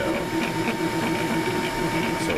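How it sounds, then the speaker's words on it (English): A MakerFarm Prusa i3 3D printer runs nearby with a steady mechanical whir and a faint stepper-motor whine, a continuous hum with soft rhythmic ticks and no pauses. "So the printer working quite well after zeroing the Z"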